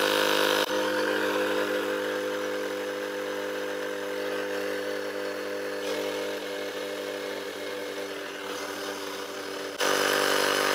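An electric pump screwed onto the valve inflates a studded winter bicycle tyre on a Canyon bike, a steady mid-pitched motor drone running continuously for about nine seconds before cutting off.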